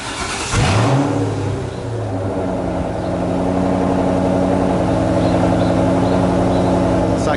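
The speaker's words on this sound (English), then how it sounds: "So I'm here idling, making all this noise." A Ford Mustang Mach engine with a Procharger supercharger starts and settles into a loud, rumbling idle with a steady mechanical drone, heard close up with no talking.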